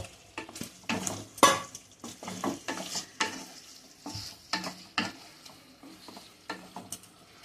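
Pieces of pointed gourd (potol) fry in a pan with tomato, a soft sizzle underneath as a spatula scrapes and knocks against the metal in irregular close strokes, with no talking.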